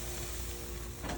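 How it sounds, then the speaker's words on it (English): Lemon juice sizzling as it hits a hot pan of butter for bone-in strip steaks, a steady close hiss with no one talking. "listen to that sizzle"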